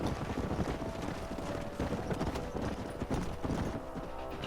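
Horse hooves clip-clopping in Red Dead Redemption, a steady dense patter of several horses trotting over ground, fairly close and continuous under a low wash of ambient noise.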